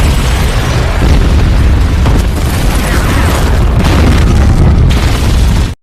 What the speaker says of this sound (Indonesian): Kemudian mobil itu meledak